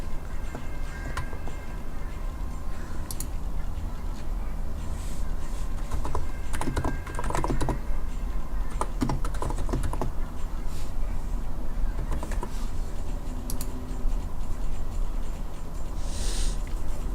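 A computer keyboard is tapped in bursts of quick, light key clicks to enter a file name, with irregular pauses and a soft background hum.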